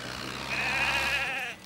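A sheep bleats once, a clear wavering cry lasting about a second over a low engine hum, apparently from a small tractor idling nearby.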